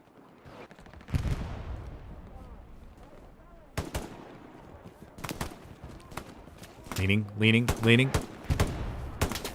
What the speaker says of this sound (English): Dodging the shots.